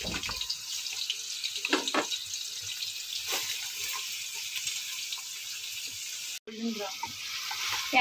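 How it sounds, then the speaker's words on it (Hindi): Onions sauté in hot oil with whole garam masala for prawn biryani, a close, steady sizzle with a few stirring scrapes, then a brief abrupt break before the frying resumes. "प्याज को हम लोग तब तक सॉटे करेंगे जब तक इसका कलर गोल्डन ब्राउन नहीं हो जाता है।"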